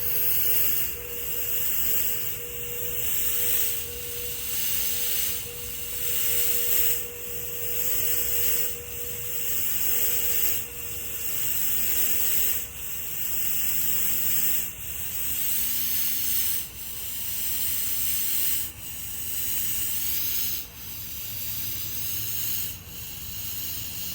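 A HAKUTA SplashClip water pump that runs poorly sprays with a steady broadband hiss. The hiss rises and falls in regular surges about every two seconds and stays close and fairly loud throughout.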